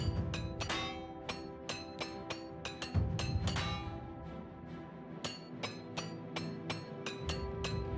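Repair hammers strike equipment in Oblivion Remastered, a steady series of sharp metallic clinks and taps repeating about every half second over a continuous game background.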